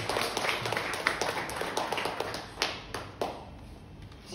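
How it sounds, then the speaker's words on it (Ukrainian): An audience at a company presentation in a hall claps to welcome the director to the stage, a loose, moderately sized round of hand claps with a few sharper individual claps standing out, thinning toward the end. "Ваші оплески!"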